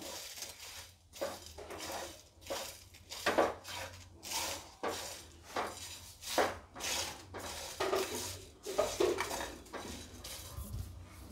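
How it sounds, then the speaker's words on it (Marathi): Masala for veg Kolhapuri is roasted in a pan, with a spatula scraping back and forth in a steady rhythm of about one stroke per second, close and moderately loud. "आता हा मसाला एकदम छानपैकी आपण थोडासा भाजून घेऊया।"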